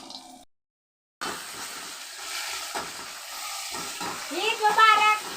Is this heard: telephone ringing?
no